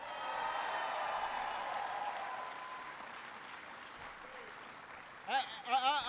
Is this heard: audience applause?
yes